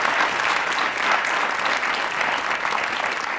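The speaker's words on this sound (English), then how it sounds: "So here you are, a round of applause of your own," A studio audience applauds a Countdown game show contestant with a dense, steady round of clapping that holds evenly from start to finish, with no talk over it.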